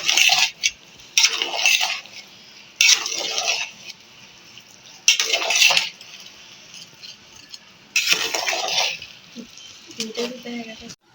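Metal spoon scraping and clanking against a pot while stirring fried beef into a beef biryani, in several separate bursts with quiet gaps, close and fairly loud.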